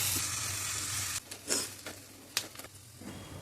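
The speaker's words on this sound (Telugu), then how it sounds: "సన్నగా తరిగిన ఉల్లిపాయల్ని ఆయిల్లో గోల్డెన్ బ్రౌన్ కలర్ వచ్చేంత వరకు ఫ్రై చేసుకోవాలి." Thinly sliced onions fry in hot oil for a chicken dum biryani, a steady close sizzle with a few brief stirring scrapes and soft pops partway through, no voices.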